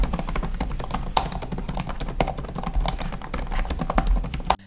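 Rapid typing on an Asus Vivobook Pro 15 OLED laptop keyboard with soft, muted keys: dense, irregular clicks and taps close up, steady for several seconds with occasional louder keystrokes.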